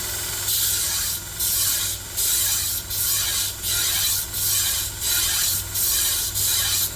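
A badly damaged Dalstrong knife blade being sanded on a 120 grit abrasive, heard as rhythmic back-and-forth rasping strokes, about ten evenly spaced passes, loud and close with no talking.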